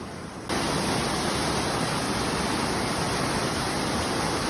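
A small river stream flows with a steady, broadband rush of water, close and continuous after a brief quieter moment at the start.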